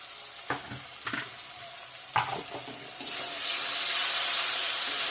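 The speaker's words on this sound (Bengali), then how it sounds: "ভালো করে কষিয়ে নেব" Ground turmeric, chilli, coriander and cumin sautéing in oil for a broad bean curry, scraping stirs over a sizzle that swells into a loud, hissing frying roar in the second half, close up with no voices.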